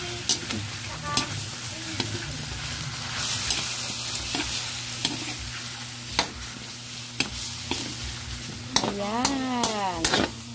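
Chicken adobo with string beans and potatoes sautéing in a pan, a steady close sizzle with repeated sharp scrapes and clacks of a utensil stirring, and a brief squeak near the end.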